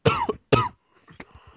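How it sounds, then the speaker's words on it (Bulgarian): A man coughs twice in quick succession, harsh and close, followed by a faint throat-clearing rasp and quieter breathy sounds. "Извинявам се за кашлянето"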